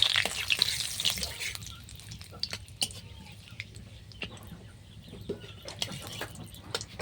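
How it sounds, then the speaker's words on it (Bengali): A bay leaf frying in hot oil with whole spices, tempering a fish curry, gives soft, close sputtering and scattered crackling pops at a low level. "এরপর আমি তেজপাতাটা দিয়ে দিলাম সেই তেলের মধ্যে"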